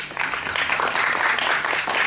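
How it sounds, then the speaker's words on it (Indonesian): Audience at a Miss Universe Indonesia 2024 finalist event applauding, a brief, dense burst of crowd clapping, loud and even throughout. "Oh, kita berikan tepuk tangan dulu."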